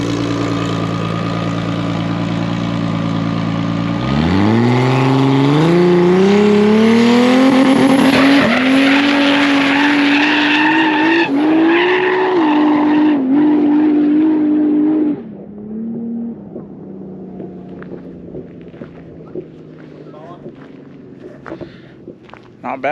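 A drag car on a test pass at the track launches hard and roars through rising gear pulls, loud and close, then cuts off abruptly and leaves quiet ambience with scattered small sounds.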